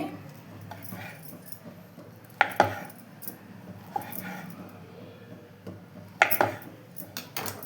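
A knife slicing steamed colocasia leaf rolls (alu vadi) into pieces, with a few sharp clinking cuts against the board in two short bursts and quiet, soft handling sounds in between.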